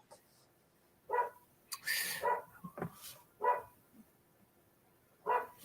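A dog barking indoors, several sharp barks spaced over a few seconds with a short whine and some rustling between them, fairly near and standing alone against a quiet background.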